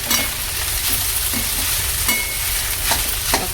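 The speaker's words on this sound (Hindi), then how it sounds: "तो रात के चावल बचे थे, मैं उसको ही फ्राई कर रही हूँ।" Leftover rice frying in a pan with onions and red chilli, a steady close sizzle broken by periodic scraping stirs, with no voices.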